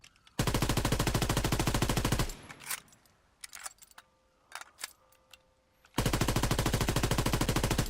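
Rapid automatic bursts from the M1941 Johnson rifle in Call of Duty WWII, a dense steady volley of shots, then a pause with clicks and reload clatter, then another long sustained burst.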